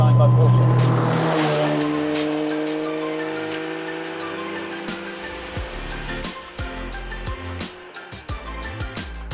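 A Tuthill Porsche 911K on a race track, its engine revving hard and climbing through the gears, then pulsing with sharp throttle blips and rhythmic bursts as it passes close by.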